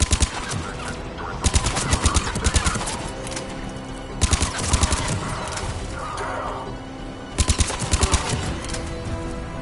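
Gunfire in the Mass Effect video game comes in three loud bursts of rapid automatic shots, each lasting about a second, separated by a steady rumbling battle ambience with whooshing effects.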